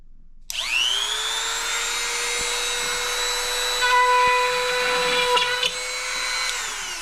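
A power tool drills holes into junk fish traps: a loud, close motor whine that starts abruptly and holds steady for several seconds, with small shifts in pitch as the bit loads, then winds down near the end.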